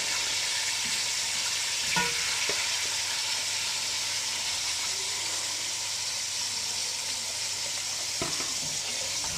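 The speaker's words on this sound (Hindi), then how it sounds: "अब ये चिकन ब्राउन हो जाएगा" Chicken browning in a frying pan, a steady continuous sizzle with a couple of faint clinks from stirring and no talking.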